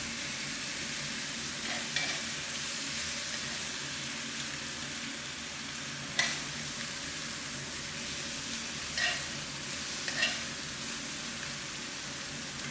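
Steady, continuous sizzling of catfish pieces frying in a hot wok, with occasional soft clicks and scrapes of a utensil loosening the fish from the wok.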